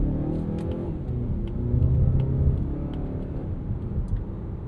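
A 2026 Mazda CX-5 crossover accelerates in Sport mode, its engine note rising to a moderate rumbling rev and then easing back, heard from inside the cabin with no talk.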